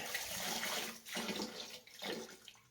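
A toilet flushing during RV winterization with pink antifreeze, heard as a close, steady rush of water that surges again in two later bursts; no one talks over it.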